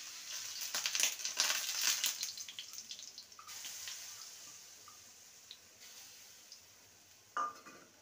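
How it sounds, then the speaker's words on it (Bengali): Ground chana dal paste going into fried tempering in a pan, giving a close sizzle and crackle with wet squelching and scraping that peaks early and then settles to a softer, fading hiss with a few late clinks. "এবার ডালের মিশ্রণটা দিয়ে দেবো, যে ছোলার ডালটা বেটে রেখেছিলাম।"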